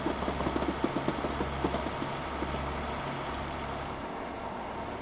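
Class 156 diesel multiple unit engine in Train Simulator Classic, a steady low idling drone with a pulsing throb that swells and dips in regular cycles, alone with faint clicks in the upper range.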